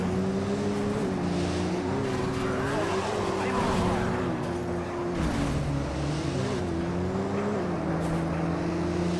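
Video game cars race through a sewer in Midnight Club 2, with a continuous roaring engine drone that rises and falls in pitch as the cars rev, and occasional tire squeals.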